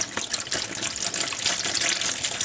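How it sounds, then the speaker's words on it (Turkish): Water from olives being prepared pours off in a continuous splashing gush, close and fairly loud, with an uneven, bubbling flow. "Bakın suyunu şöyle döküyorum."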